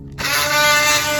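A power tool whirs up suddenly and keeps up a steady, close buzzing drone as an electric sander runs against wood.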